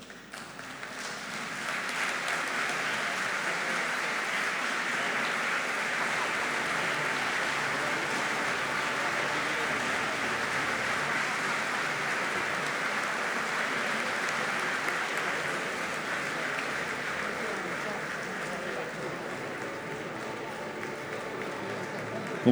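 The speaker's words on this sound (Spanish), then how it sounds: "Invitamos a todo el público presente a ponerse de pie y saludarlos con un gran aplauso." A standing audience in a university aula magna applauds honorary doctors with long, steady, full-room clapping that swells in quickly and holds evenly for over twenty seconds, thinning slightly near the end.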